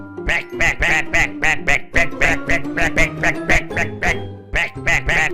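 Cartoon ducks quack in a rapid, regular series of loud nasal calls, several voices overlapping close by over a light musical background.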